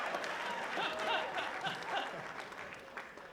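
Comic Con audience cheering and applauding, a steady dense wash of clapping with scattered whoops and whistles, moderately loud and continuous throughout.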